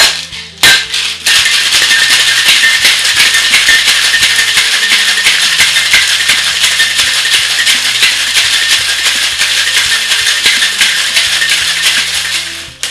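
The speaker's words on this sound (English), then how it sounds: "Close them up, flip them over, and we shake for 12 seconds." Ice rattling hard inside metal cocktail shaker tins being shaken for a Southside cocktail, a loud, steady, continuous clatter lasting about twelve seconds after a brief pause at the start.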